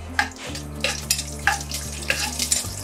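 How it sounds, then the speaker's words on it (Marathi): Charoli nuts shallow fry in ghee, giving a soft sizzle with small bubbling bursts over a low steady hum from a stove or extractor, no voices present. "शॅलो फ्राय करून घेणार आहे"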